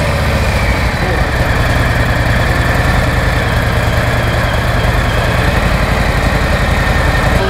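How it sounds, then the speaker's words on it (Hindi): A Ducati Panigale or Harley-Davidson motorcycle engine runs loud and close, a dense, continuous rumble at steady high revs with no clear individual blips. "Let's hear the rev note."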